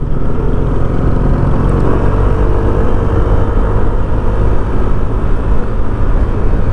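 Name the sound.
Honda Click 160 scooter engine running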